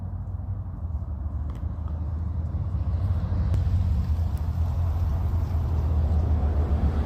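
A neighbor's car passes by outdoors, a steady low rumble that swells slightly as it approaches, with no voices.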